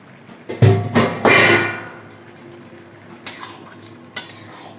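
A metal pot lid is lifted off khichuri while cooking, producing a few sharp clanks and a scraping rattle up close, followed by quieter clinks of a utensil against the pot.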